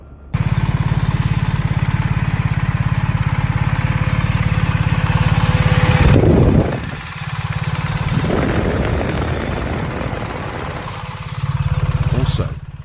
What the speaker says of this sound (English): When I first started 1300 GS, its sound was slightly different from the 1250 GS.